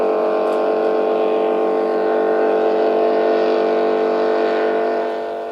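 Lobster boat engines roaring steadily during a 1994 Jonesport boat race, a loud droning, harmonic motor note held for several seconds, near and continuous, slowly easing off at the end.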